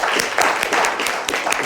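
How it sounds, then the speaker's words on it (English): An audience claps for Hilda and Leva, a short burst of scattered individual hand claps with a few distinct sharp hits over less than two seconds. "So if we can get a round of applause for Hilda and Leva."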